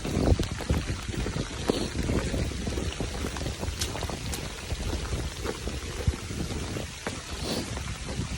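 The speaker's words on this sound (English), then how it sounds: "I'm enjoying playing in the rain." Steady rain falls on a forest hiking trail along the Appalachian Trail, making a continuous soft patter with scattered closer drips and taps, and no voices.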